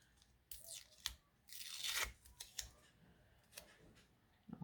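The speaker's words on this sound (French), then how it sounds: "D'habitude, le washi, on fait toujours attention de ne pas le déchirer. Là, je fais tout pour le déchirer." Washi tape torn by hand in several quick, sharp rips, with a longer tear in the middle, close up and fairly quiet, with no talking.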